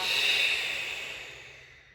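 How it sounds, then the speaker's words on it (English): A single forceful breath blasted out through the nose during kundalini breathing practice, a loud airy rush that starts strong and tapers off over two seconds, close and alone. "inhale, blast the air out"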